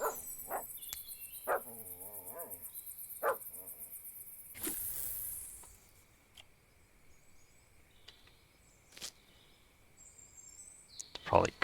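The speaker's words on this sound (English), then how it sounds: "that dog's gonna give me a heart attack" A dog in the fishing game Russian Fishing 4 lets out a series of sharp, irregular barks. Some barks are loud and close, others fainter, with a voice heard briefly among them.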